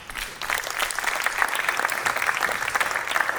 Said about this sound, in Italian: Allora, Flavia Trupia, veramente un grandissimo applauso.